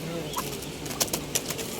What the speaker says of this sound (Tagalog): dito na naman tayo sa alaga nating mga ginia